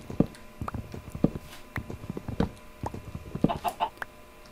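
Minecraft chickens cluck in short, irregular bursts, close and distinct, with several quick clucks bunched near the end.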